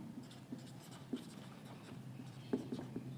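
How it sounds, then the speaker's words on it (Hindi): Pen writing notes during a lecture on the rotating crystal method of X-ray diffraction: faint, close scratchy strokes with small taps in an uneven rhythm, no voice over it. "चलिए अब हम लिख लेते हैं इसको, मेरे साथ साथ आप लिखते रहिए।"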